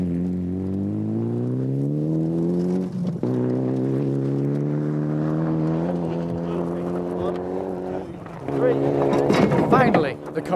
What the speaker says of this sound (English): Finally, the car is on the move,